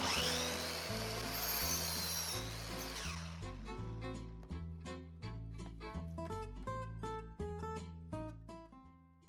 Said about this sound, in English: I'm gonna go saw that piece now.